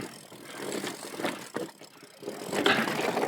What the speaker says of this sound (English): Use the throttle just a little bit there.